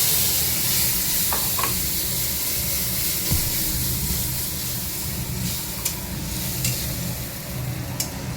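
Cumin and bay leaf fry in hot oil with spice mix in a home kitchen. The sizzle is close and steady, with occasional clicks of a stirring spoon.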